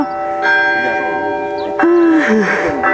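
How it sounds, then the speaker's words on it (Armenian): Church bells ring for a wedding ceremony at Ohanavan, steady harmonic tones layered and sustained, with a fresh louder strike near the middle and a faint voice briefly underneath. "ինչպես լսում եք զանգերը ղողանջում է"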